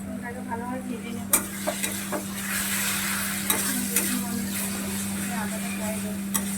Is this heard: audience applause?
no